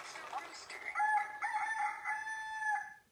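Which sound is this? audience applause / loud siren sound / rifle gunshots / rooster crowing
rooster crowing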